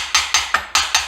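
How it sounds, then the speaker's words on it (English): Five light, sharp taps come at a quick, even pace and sound close, as small engine parts are gently knocked to seat them. "What I like to do to make sure these are seated, just barely tap them."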